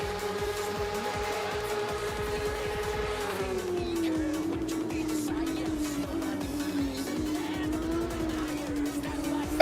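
A touring race car runs flat out down a fast straight in a racing game, its engine droning loud and steady with a pitch shift partway through, and light tire noise underneath.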